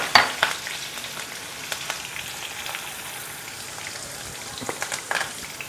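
Loud crackling sizzle of sesame seeds popping in hot oil for tempering, with sharp spitting bursts at the start and near the end.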